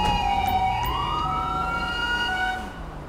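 A police car siren wails in a video game, a loud continuous rising and falling tone sweeping steadily for about three seconds, then easing slightly at the end.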